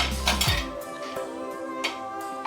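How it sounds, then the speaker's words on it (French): Shrimp tipped back into a metal cooking pot, a soft tumbling clatter followed by a few light metallic clinks and taps, close and fairly quiet. "je reviens donc renverser les crevettes à l'intérieur"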